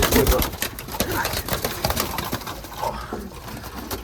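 Pigeons in a loft, including young Budapest-type birds, coo and shuffle close by, with soft wing flutters and someone talking intermittently over them.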